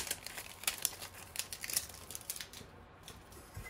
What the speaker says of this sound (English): Let's go ahead and pull this heat plastic layer off.